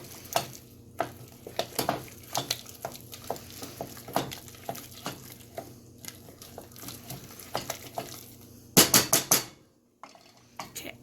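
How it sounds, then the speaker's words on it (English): Spoon scraping and knocking against a bowl as an egg is worked into almond puff pastry dough, irregular clinks and sticky stirring noises, with a louder burst of quick knocks near the end before a short lull. "I'm going to stir it, and then I'll add in the other egg"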